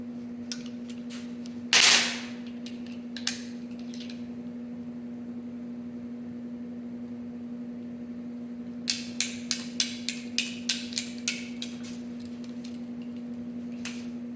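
A torque wrench clicks while bolts are tightened on a Polaris Indy 650 triple snowmobile engine build, with a loud clack early on, then a run of about ten quick, close clicks over a steady electrical hum.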